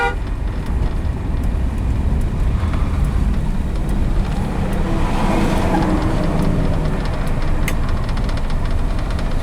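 A 1966 Dodge Coronet 440 coupe engine rumbles steadily and loudly from inside the car during a slow U-turn on a test drive, a continuous low drone with faint road noise and no talking.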